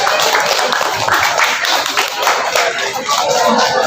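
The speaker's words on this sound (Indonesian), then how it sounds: "Kita beri aplaus untuk paslon nomor urut 1." A school student council candidate debate audience claps for candidate pair number 1, a dense, steady patter of many hands in a room, sustained at even loudness throughout.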